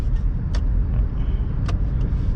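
A 2002 Toyota RAV4 drives along with a steady low road and engine rumble, slowing down, with a couple of faint brief ticks above the continuous noise and no talk.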